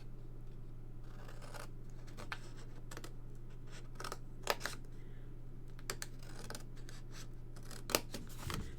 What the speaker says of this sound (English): And then I'm gonna snip this off.